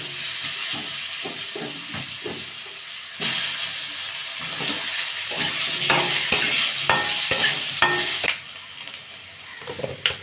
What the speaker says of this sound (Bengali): আমি আলুগুলো ভেজে নেবো আগে।